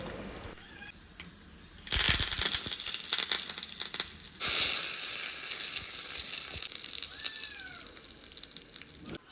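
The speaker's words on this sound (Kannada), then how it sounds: "ಈಗ ಇದಕ್ಕೊಂದು ಒಗ್ಗರಣೆಯನ್ನು ರೆಡಿ ಮಾಡ್ಕೊಂಡು ಬರುವ" Mustard-seed tempering spices for ridge gourd peel chutney hit hot oil with a sudden loud sizzle, then a sharp second burst, settling into a crackling, spitting fry.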